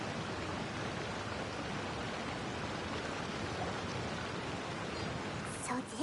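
A waterfall in the Genshin Impact video game roars as a continuous, dense rush of water, loud and steady from start to finish with no pauses.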